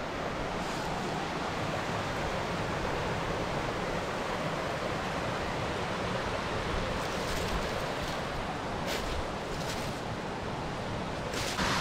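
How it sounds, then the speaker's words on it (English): Several waterfalls spilling into Mill Creek in the Ozarks make a steady, broad rushing roar that stays loud and even throughout, with no voices. "there's multiple waterfalls coming from it going into Mill Creek"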